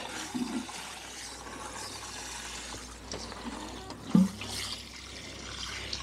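A watering can pours water onto freshly planted strawberry plants on an allotment, a soft steady splashing and trickling close by with a brief louder splash near the end.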